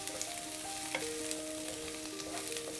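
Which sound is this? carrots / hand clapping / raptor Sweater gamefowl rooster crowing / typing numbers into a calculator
carrots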